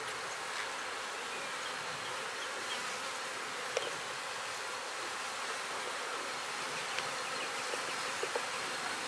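Honey bees hum in a steady, faint, continuous drone around an open hive during beekeeping work, with no voices.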